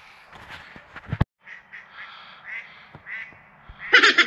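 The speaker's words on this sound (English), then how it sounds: "ducks." Ducks quack outdoors in a series of short, nasal calls close by, rising to a louder burst of quacking at the end, with no talking over them.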